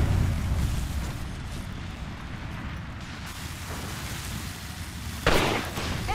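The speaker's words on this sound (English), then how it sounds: "Thermite grenade!" A thermite grenade in the video game Apex Legends burns with a loud, steady roaring hiss that fills the whole stretch, and a sharper burst flares up near the end.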